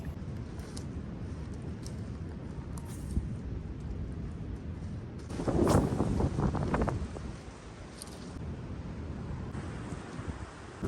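Strong wind blowing at a Kentucky lakeshore, roaring and buffeting against the microphone in a steady rush with a louder gust surging near the middle, no one talking.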